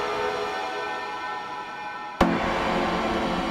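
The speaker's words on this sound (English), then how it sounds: "in the background, I've put some airy, forced tones to really get that feeling like we're in a very misty, windy forest" Airy, breathy wind-like tones made from air sounds wash steadily through a Lost Woods remix from Zelda, a soft hissing texture broken by one sharp click partway through.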